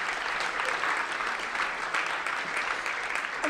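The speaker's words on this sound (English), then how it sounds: "So if you would give them a round of applause" Steady applause from the crowd at the Brooklyn Arts Council 2019 regrant ceremony, an even, sustained patter of many hands, moderately loud and unbroken with no voices on top.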